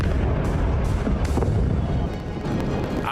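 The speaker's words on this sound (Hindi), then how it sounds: "तेज धमाके के साथ मल्टी स्टोरी बिल्डिंग मिट्टी के ढेर में तब्दील हो गई" A heavy, rumbling blast as a multi-storey building collapses in Beirut roars loud and continuous with deep booming energy, then trails off slightly toward the end.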